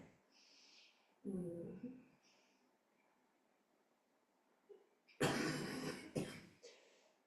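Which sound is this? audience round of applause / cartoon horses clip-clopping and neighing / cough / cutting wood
cough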